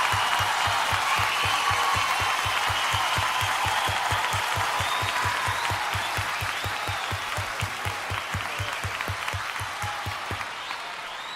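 A concert audience applauds a singer, broad dense clapping overlaid with a steady rhythmic beat of clapping in time, loud at first and slowly fading toward the end.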